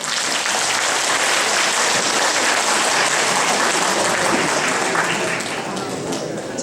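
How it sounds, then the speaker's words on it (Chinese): Sustained dense applause from an indoor audience at a Taiwanese seniors' association annual meeting in Northern California, loud and even throughout, with voices mixed in. "咱个鼓掌一下。"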